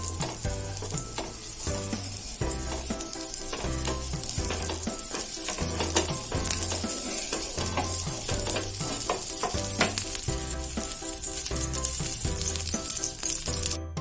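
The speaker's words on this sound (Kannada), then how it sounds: "ತವೆಗೆ ಎಲ್ಲ ಕಡೆ ಬಟರ್ ಗ್ರೀಸ್ ಮಾಡಿಸ್ಕೊಳ್ತಾ ಇದ್ದೇನೆ" Butter melts and sizzles on a hot tawa while being spread around to grease it for frying bread, a steady crackling hiss with scattered light scraping taps throughout.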